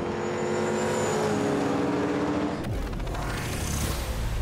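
Race cars in a Fast X film scene roar past in a loud, continuous engine blare with rising revs, and a sharp change midway as one car sweeps by up close.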